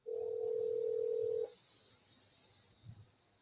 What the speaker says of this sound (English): Right, it is ringing now.